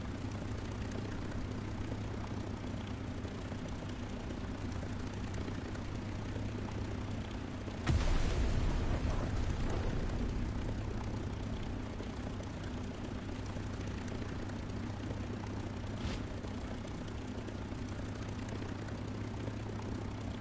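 Aircraft engine droning in flight in War Thunder, a steady loud propeller roar held throughout, with a sudden burst of rumble near eight seconds that fades back into the continuous drone.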